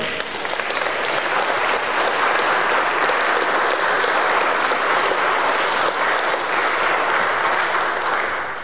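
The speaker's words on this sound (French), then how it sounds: "On pourra applaudir toutes ces personnes" Dense, sustained applause from a large crowd at a Catholic Mass fills the whole stretch at an even, loud level, easing only slightly at the very end.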